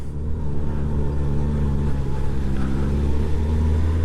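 A Kawasaki GPZ750 motorcycle engine at the 2019 North West 200 road race drones loud and steady as the bike accelerates out of a tight corner, with a continuous close onboard engine note and no talk.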